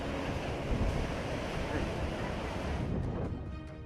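The flooded Krishna river near Kallola in Chikkodi taluk during heavy rains, a broad continuous roar of rushing water mixed with wind buffeting, loud and unbroken throughout.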